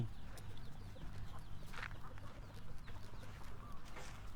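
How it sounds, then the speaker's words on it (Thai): Domestic chickens cluck faintly at a small Thai farm, with scattered short calls over a quiet outdoor background. "ตัวนี้คือไก่บ้านเลี้ยงไก่บ้านไว้"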